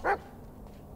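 A single short dog bark from the video game Blair Witch, a brief moderately loud burst near the start followed by quiet ambience.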